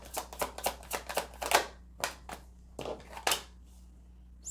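Quick crisp snaps and slides of tarot cards being pulled from a deck, a rapid run of about eight flicks followed by a few slower, separated ones, close and clear with no talking.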